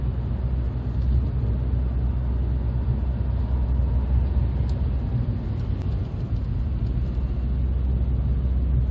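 Cabin drone of a 2000 Mercedes-Benz CLK 230 Kompressor Avantgarde Cabriolet cruising at 50 mph, a steady low engine and road rumble with wind hiss, continuous and unbroken.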